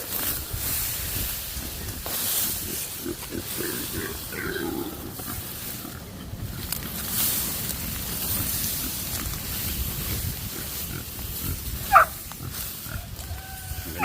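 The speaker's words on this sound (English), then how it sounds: "I can hear pigs" Pigs grunt and snort at an off-grid homestead in Tonga, low rough grunts scattered throughout at moderate distance, with a brief sharp squeal near the end.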